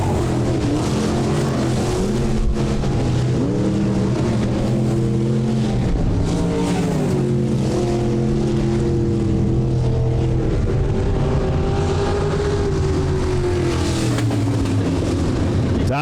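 USRA B Modified race cars at a dirt speedway during a heat race, a loud continuous roar of engines rising and falling as cars pass, with a commentator talking over the noise.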